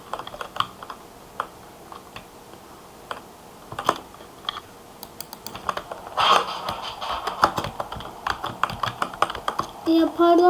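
Typing on a computer keyboard while playing Roblox, with scattered key clicks that turn into faster, denser bursts of clatter in the second half, close and fairly loud.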